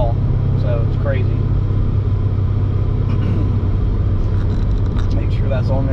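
Supercharged Corvette Z06 with a ProCharger, port injection and Holley EFI, heard while driving, its steady low engine rumble droning throughout, close and loud, with people talking over it.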